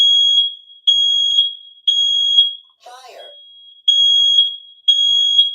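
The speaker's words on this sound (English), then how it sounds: "There is a fire alarm, please." A smoke or fire alarm beeps loudly in repeated long shrill tones, about one per second, with a brief pause where a voice speaks before the beeping resumes.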